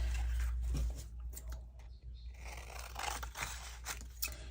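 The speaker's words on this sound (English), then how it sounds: "now we want to cut these out" Scissors snip and scrape through cream-colored card stock, cutting out paper belly bands for a Christmas journal in a quiet room, with short irregular cuts and no talking.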